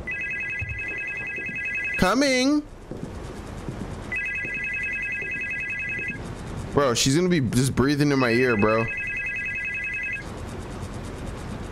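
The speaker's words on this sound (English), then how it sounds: "The phone's ringing." Telephone ringing in repeated bursts of a steady electronic trill, each lasting about two seconds, with someone talking loudly and excitedly between and over the rings.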